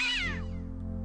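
A cat in Day of the Tentacle lets out one sharp, angry yowl that bends downward in pitch and fades quickly, set over a low humming game background.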